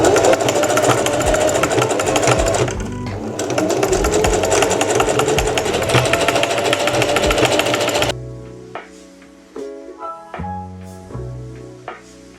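A sewing machine stitches fabric panels for a halter top maxi dress in a loud, fast, even mechanical whir with a brief pause, then stops for a stretch of quieter clicks and handling.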